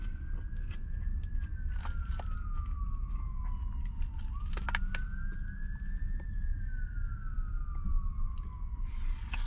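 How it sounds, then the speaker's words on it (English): A police car siren wails in long rising and falling sweeps, heard from the street during a truck vlog and fairly close, over steady road and engine rumble with scattered crunchy clicks. "Look at the police with its sirens on."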